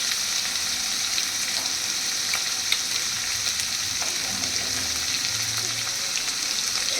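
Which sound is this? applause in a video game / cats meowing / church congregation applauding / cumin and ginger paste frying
cumin and ginger paste frying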